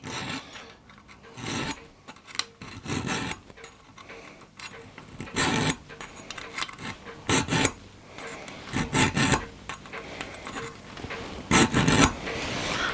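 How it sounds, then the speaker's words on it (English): Hand file rasping across an empty CO2 cartridge in repeated uneven strokes, close and scratchy, with short pauses between bursts and no talking. "Look at, I'm actually doing some filing."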